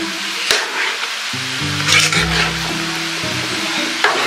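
A hot, thick maja blanca mixture is stirred in a pan, giving a steady bubbling sizzle with scraping strokes and a few sharp knocks, close and fairly loud, over a low background hum.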